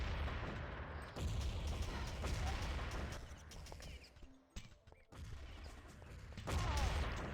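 A grenade is thrown during a competitive video game match, amid faint, dense bursts of gunfire and thuds that drop briefly before picking back up.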